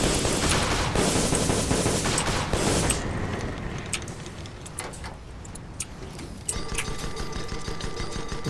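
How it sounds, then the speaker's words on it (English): Guns fire on airships in the game Guns of Icarus Online, with dense rapid bursts early that thin into scattered shots and mechanical clatter later. "I don't know how he's shooting us from that."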